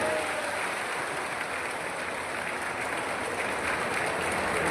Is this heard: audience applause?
yes